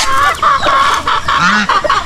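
Backyard farm turkeys clucking in quick, close bursts, a run of short, loud calls with brief pauses between them.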